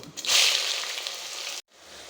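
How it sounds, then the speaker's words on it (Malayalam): Sliced onions hit hot oil already holding fennel and bay leaves in a Kerala home kitchen, giving a loud burst of sizzling that settles into steady frying hiss before cutting off abruptly. "ഇപ്പോൾ ഇത് നമ്മൾ സവാള ഇടുക"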